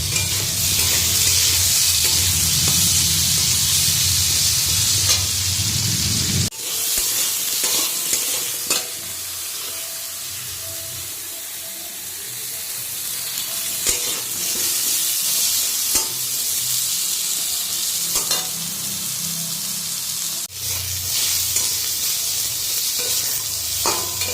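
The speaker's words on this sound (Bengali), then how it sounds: "আর এখানে দেখো আলুগুলো ভেজে নিচ্ছি" Steady, loud sizzling of potatoes frying in a hot pan, a continuous crackling hiss with occasional brief stirring scrapes.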